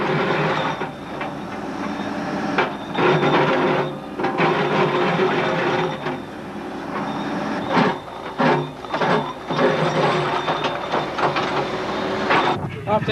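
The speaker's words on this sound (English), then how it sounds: "We'll see whether the machine can penetrate the concrete." A Turbo Jack machine scraping into a concrete trench gives a continuous harsh grinding and rattling, with rhythmic bursts and short dips, fairly close and loud with a voice faintly underneath.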